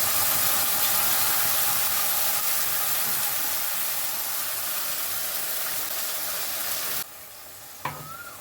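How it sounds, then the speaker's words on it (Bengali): Tomato paste sizzling and frying in hot oil with whole cumin seeds, a steady loud hiss and crackle that runs continuously, then drops away abruptly near the end, followed by a brief clink. "জিরেটা একটু ফ্রাই হয়ে গেছে যখন, তার মধ্যে দিয়ে দিলাম টমেটোর পেস্টটা"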